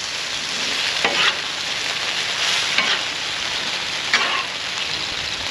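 Chunks of shark meat being stirred and turned through teriyaki sauce, giving close, wet squelching and slapping sounds with a few louder stirs over a steady sizzling hiss.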